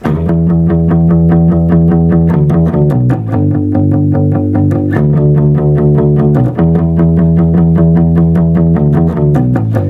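A punchy electric bass riff repeats a short pattern of low, steady notes with a slightly processed, driven tone, played alone.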